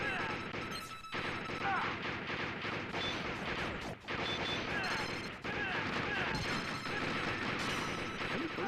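Dense, continuous gunfire from the arcade shooter Operation Night Strikers: rapid repeated shots and crashes with game effects layered over them, loud and busy throughout with only brief dips.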